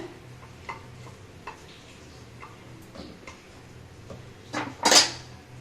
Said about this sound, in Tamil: இப்போ நான் இந்த உரிச்சி வச்ச வெங்காயத்தை இதில் சேர்த்துக்கிறேன்